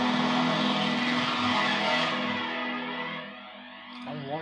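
A synthesizer routed through two chained rack effects units, including a spacey reverb, gives a loud, dense, distorted wash with a steady low drone. It fades and thins toward the end before a brief swell.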